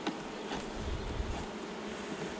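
Honeybees buzz around an opened hive after being shaken off the frames, a dense, steady hum of many bees close by with outdoor wind noise and no talking.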